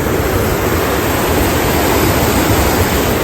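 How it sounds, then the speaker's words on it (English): An enormous body of water rushes through near a residency retreat. It makes a loud, dense, unbroken roar that holds steady throughout, with nothing else heard. "This enormous body of water that comes through."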